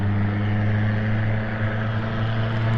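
A vehicle with no muffler passing on a road, with something dragging beneath it, gives a loud, steady droning engine rumble with strong low tones, close and continuous, with no talk.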